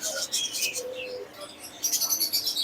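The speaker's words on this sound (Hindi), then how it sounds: "2 कॉकटेल के पेयर आ गए हैं" Cockatiel breeder pairs chirping and whistling in quick, bright bursts, close by, clustered at the start and again in the last second, with soft background rustle between.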